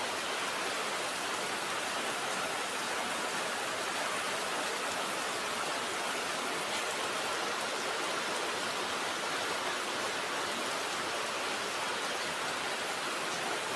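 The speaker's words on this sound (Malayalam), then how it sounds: "ഇപ്പോൾ നല്ല മഴയാണ്" Heavy rain pours steadily, making a dense, even hiss that holds without a break for the whole stretch, with no voices over it.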